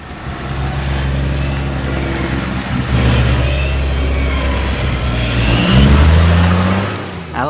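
A car engine strains and revs hard on a muddy, rain-soaked off-road track with bog holes, loud and close, the pitch rising and falling as it climbs through the gears.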